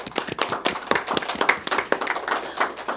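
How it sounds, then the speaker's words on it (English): A small audience at a school spelling bee claps for a contestant, a brisk, uneven patter of nearby hands lasting a few seconds without speech. "Give her a round of applause."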